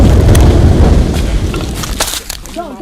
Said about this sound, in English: The explosion you just heard was from soldiers using explosives to destroy an excavator in the forest near the Brim River.